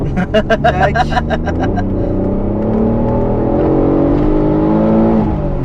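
An Alfa Romeo 147 GTA engine climbs through the revs from inside the car, with a loud rising drone and tones sweeping upward as it accelerates, rough pulsing at the start settling into a smooth climb.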